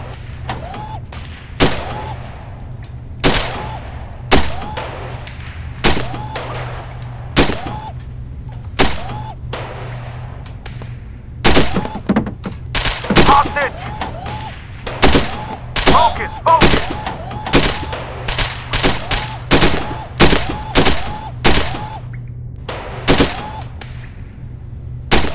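Rapid repeated gunshots from the VR shooting game Supreme GOD 8 Gun Club, loud sharp cracks firing in quick irregular bursts over a constant low background hum, with game sound effects between shots.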